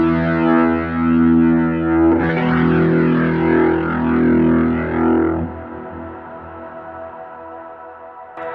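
Electric guitar through a Kemper Profiler with a warm drive tone and rotary effect, sustained chords swirling and pulsing with a wobbling modulation, loud and alone, then dropping to a quieter held tone near the end.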